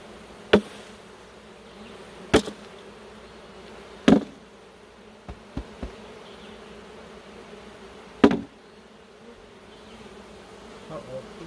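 Honeybees buzz steadily around an open hive during an inspection, a continuous close drone broken by several sharp knocks and clunks of equipment, with no talking.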